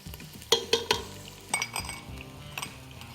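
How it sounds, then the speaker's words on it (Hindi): Ginger and garlic fry in a pan with a quiet, hissing sizzle, overlaid by several bright metallic clinks and knocks of a spoon against the pan in quick bursts. "ये रिच अदरक लहसुन जब तक फ्राई हो रहा है"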